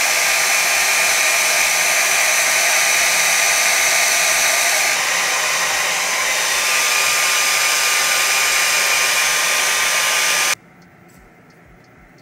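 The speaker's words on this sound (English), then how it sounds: "Now I'm going to use a blow dryer on a cool, not cool, but like a warm setting" A hair dryer on a warm setting blows with a steady, loud whoosh for about ten seconds, then cuts off abruptly, leaving quiet background hum.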